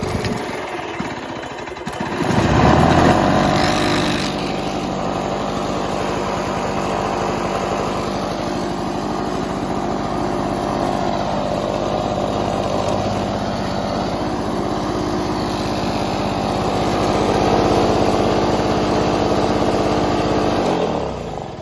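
A Lawn Boy self-propelled push mower is pull-started with the choke on: a brief cranking pull, then the small engine catches and runs at a steady, loud, buzzing idle close by for about twenty seconds.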